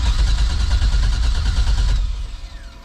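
An LS-swapped Mustang's starter cranks the engine repeatedly in a fast, steady rhythm without it catching, loud and close, before the cranking stops and fades after about two seconds.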